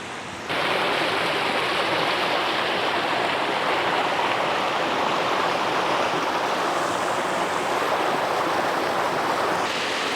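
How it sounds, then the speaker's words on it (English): Creek water beside a garden in Georgia rushes and flows steadily, a continuous loud broadband gush like a fast creek nearby, with no voices. "This creek beside the garden floods quite often."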